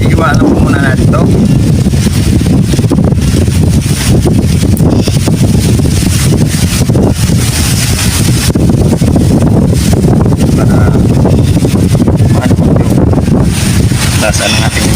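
Strong wind rushes across a rice field and buffets the microphone in a loud, unbroken roar for the whole stretch, with a voice faintly buried under the gusts.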